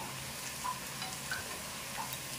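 Onions frying in a pan, browned and near done, give a faint, steady sizzle with a few soft ticks and pops and no talking.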